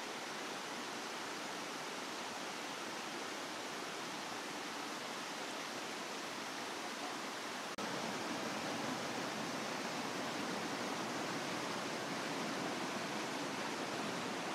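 Autumn waterfall at Oshidori Kakushi Falls in Nagano, a steady, dense rush of falling water that stays even and fairly loud throughout, with no voices.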